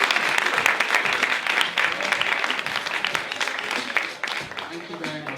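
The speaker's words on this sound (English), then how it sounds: "Please give her a round of applause." Sustained audience applause at a launch event for an Afro hair and beauty association, dense steady clapping for a speaker coming forward, with some cheering voices mixed in throughout.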